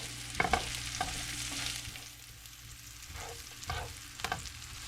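Food frying in a pan, a continuous soft sizzle with occasional stirring scrapes and taps, close and fairly quiet.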